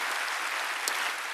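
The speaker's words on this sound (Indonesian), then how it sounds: "Berikan tepuk tangan kita kepada Tuhan." Church congregation clapping during a worship service, a brief burst of even, moderately distant applause filling the room.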